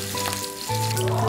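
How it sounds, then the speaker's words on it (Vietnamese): Fish fillets fry in a pan until golden on both sides, giving a steady close sizzle with a bright spatter hiss that swells and continues throughout, with faint tonal kitchen background hum. "Sau đó chiên cá đến khi vàng đều hai mặt."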